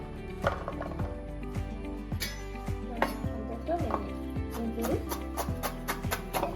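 A knife chops ginger and garlic on a board for Malay pickle mustard paste, a steady run of near, even, thudding cuts with small clinks.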